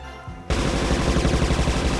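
Rapid machine-gun fire from toy planes in a multiplayer VR dogfight game breaks out suddenly after a brief quiet moment, then continues as a loud, dense, steady stream of shots.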